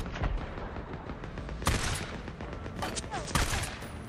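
Automatic weapon fire from the video game Days Gone, heavy bursts cracking out around the start, middle and end over a steady wash of loud battle noise.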